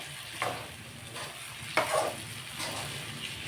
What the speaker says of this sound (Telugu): ఇట్లా తిప్పుతానే ఉండాలి కాసేపు, ఒక 10 నిమిషాలు తిప్పితే ఈ నీరంతా పోద్ది, బాగా ఫ్రై అయిపోద్ది.